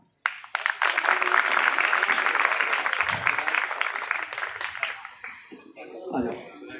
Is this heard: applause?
yes